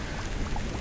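Rain falls steadily in the Starbound video game, a dense even hiss of drops, moderately loud and with no talking.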